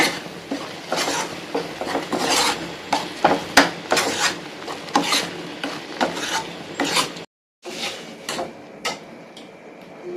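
Indian borage leaf thokku is stirred and sautéed in a pan, with rhythmic scraping and rasping strokes of a spatula against the metal. The strokes are close and fairly loud, with one brief silent break partway through.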